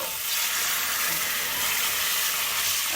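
A pan of frying potato and knolkhol sizzles loudly and continuously as water is poured in, a dense, bright hiss with no pauses.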